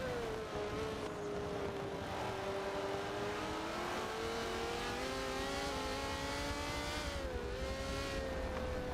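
Super saloon race cars in a racing video game roar steadily, their engine tones rising and falling through gear changes as the cars battle closely, loud and continuous with no voices.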